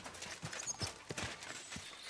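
Horse hooves in the video game Kingdom Come: Deliverance 2 clip-clop faintly in an uneven walking rhythm, with soft, distant thuds spread across a quiet background.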